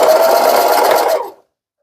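A sewing machine stitching a fabric scrunchie whirs steadily at high speed for about a second, then winds down and stops, leaving silence.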